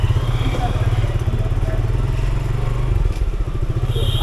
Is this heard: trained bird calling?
no